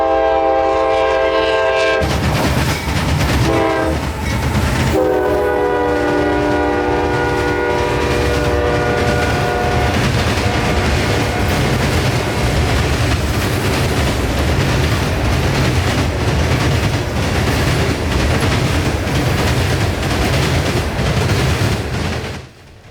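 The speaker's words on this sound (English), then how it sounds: "somewhere between 90 and 100 loaded rock hoppers headed west on the A-line" A long freight train of loaded rock hoppers passing at night on a westbound line, with a loud sustained horn blast, then a deep continuous rumble and rhythmic wheel clatter as the cars roll steadily by close at hand.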